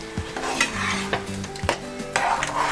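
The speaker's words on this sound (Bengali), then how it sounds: "এটা আরেকবার আমি নেড়ে দিলাম।" Thick masoor dal being stirred in a pot for a Bengali tarka, a close, steady scraping and stirring with light sizzling and occasional clinks of a spoon against the metal pot.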